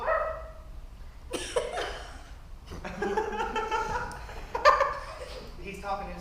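A man imitates a dog's bark in his sleep, giving short voiced yaps among speech and chuckling laughter, fairly faint and intermittent.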